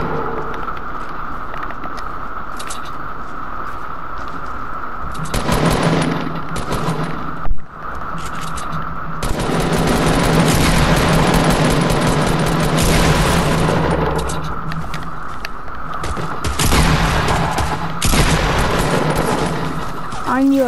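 Fortnite gunfire, with rapid bursts of shots and automatic fire recurring over continuous game ambience, loud and close.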